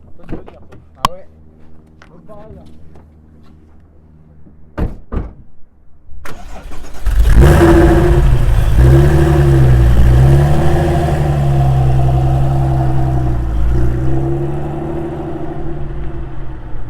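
A Porsche 996 GT3 engine cranks and fires, then settles into a loud, steady rumble with several revving swells close by. Short clicks and knocks come first, and people talk briefly.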